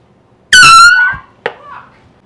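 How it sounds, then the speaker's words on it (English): A single loud air horn blast from a prank bursts out sharply, rich in harmonics and lasting about half a second, followed by a brief pause and a short, quieter squawk-like sound. "It sounded like an air horn."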